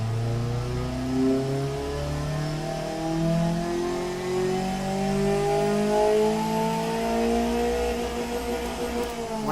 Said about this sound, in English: Let's hear this thing rev.